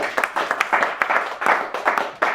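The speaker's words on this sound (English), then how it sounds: "Give yourselves a round of applause." An audience applauds in a crowd after a referendum debate, a dense, steady clapping that carries straight through with a few sharper claps standing out, close and fairly loud.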